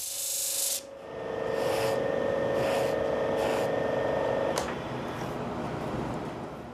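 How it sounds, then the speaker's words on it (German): A turned amber piece is sanded and polished on a lathe, giving a steady, close scratchy rasp over a constant motor hum, with a few rhythmic swells of friction before the piece comes off the abrasive. "Jetzt noch schleifen und polieren."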